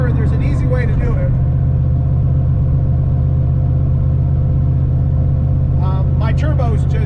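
A Mustang street car with a 363 turbo engine idles loud and close, a steady deep rumbling drone throughout while someone speaks over it at the start and end.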